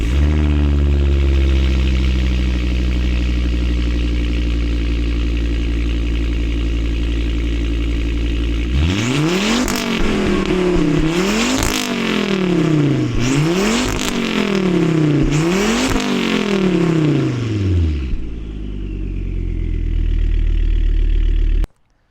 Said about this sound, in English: And that T5 makes incredible noises.